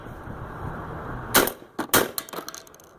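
Remington Gun Club light target shotgun loads fired, a couple of sharp reports about half a second apart over faint outdoor background, with no talk.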